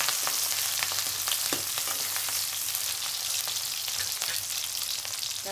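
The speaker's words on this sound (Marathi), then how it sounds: "आता तेल चांगलं गरम झालेलं आहे। आता आपण त्यात हिरवी मिरची टाकू।" Green chilies dropped into hot oil in a pan sizzle and spatter steadily, giving a loud, crackling hiss with scattered pops and no talking.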